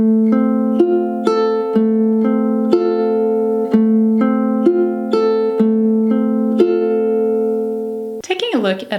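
Ukulele fingerpicking the pattern at song tempo: clear plucked notes in a steady, even rhythm over sustained ringing tones, close and alone, with a brief jangle at the end.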